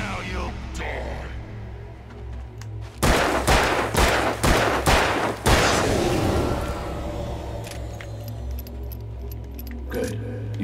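Gunfire in the video game Alan Wake: after a quiet, faintly rumbling stretch comes a rapid burst of about six loud, sharp shots in quick succession, followed by a fading reverberant tail and low ambient hum.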